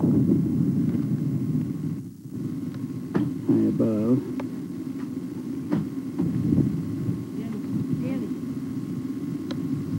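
A steady low engine drone hangs in the background from a small tour plane flying overhead, with a few faint knocks and rustles nearby.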